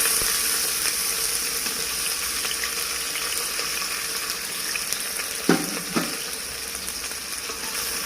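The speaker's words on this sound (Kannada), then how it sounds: "ಎಣ್ಣೆ ಕಾಯ್ದಿದೆ. ಇವಾಗ ಸ್ವಲ್ಪ ಆನಿಯನ್ಸ್ ಹಾಕ್ತೀನಿ, ಸಣ್ಣದು ಕಟ್ ಮಾಡಿದ ಆನಿಯನ್ಸ್." Finely chopped onions fry in hot oil with a loud, continuous close sizzle, broken near the end by a couple of brief spatula scrapes, and no talking.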